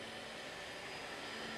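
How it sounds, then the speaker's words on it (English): A walk-behind floor scrubber, the ICE Cobotics i18B, runs its brush and vacuum motors in a steady, loud, broadband whirring drone with a constant tonal whine, heard alone. "We push the brush motor on, the vacuum motor on."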